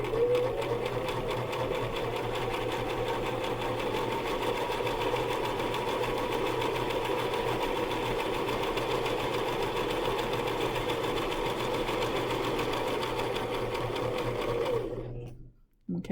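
Sewing machine running steadily while stitching a fabric square toward a line of earlier stitching, a continuous close hum that stops abruptly near the end.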